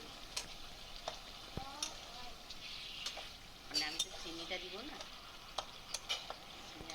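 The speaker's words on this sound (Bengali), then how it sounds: "সেগুলোকে আমি খুন্তি দিয়ে একটু ম্যাশ করে দিচ্ছি, যাতে গ্রেভিটা বা চিনির রসটা ওর মধ্যে ঢুকে যায়।" Metal spatula scraping and pressing olive chutney in sugar syrup inside a pan, with repeated soft scrapes and clicks over a faint sizzle and a quiet voice in the background.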